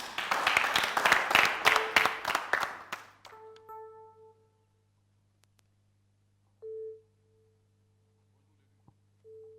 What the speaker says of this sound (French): Je vais vous demander de faire un tonnerre d'applaudissements pour celle-là qui porte le nom de l'élu 111.